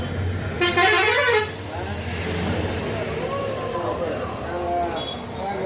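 Chennai city low-floor bus on the road, its steady engine and traffic rumble running throughout with a short horn-like tone early on, while a voice talks over it.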